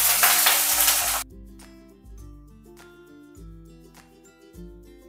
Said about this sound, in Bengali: ফোড়ন থেকে সুন্দর স্মেল বেরোলে দিয়ে দেব কেটে রাখা বেগুন।